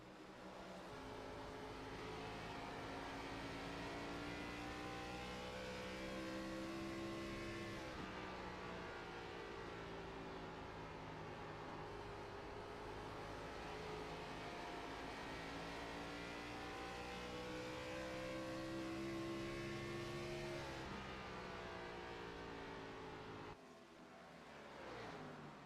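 Race cars roar around the Iowa oval in an iRacing sim race, engines holding a steady loud drone with rising and falling pitch as cars run side by side and battle for position, continuous throughout.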